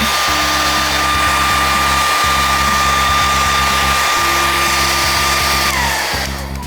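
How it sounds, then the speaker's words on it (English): A hair dryer blasts steadily to dry paint during a direct animation workshop, a loud continuous whooshing hum that runs unbroken for several seconds before tailing off slightly at the end. "The blow dryer is a great tool to have because it helps dry your paint rapidly."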